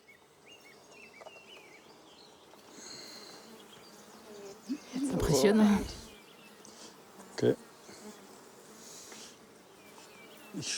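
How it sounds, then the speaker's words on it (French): Honeybees swarm and buzz at an opened hive in the Black Forest, a low droning hum with handling bumps and a louder burst of close activity, while a person speaks briefly nearby. "Et voilà les abeilles."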